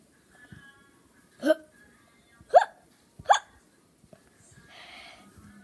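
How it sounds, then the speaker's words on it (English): Three sharp, separate hiccups sound close by, spaced about a second apart, followed by a soft rustle. "Oh, you have hiccups."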